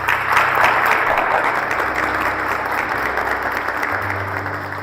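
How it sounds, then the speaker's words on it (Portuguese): Congregation at a men's religious retreat applauding in honour of Saint Joseph, a loud, dense wash of clapping from a large gathering, steady and sustained with a faint low hum underneath. "Eu quero uma salva de palmas para o glorioso São José."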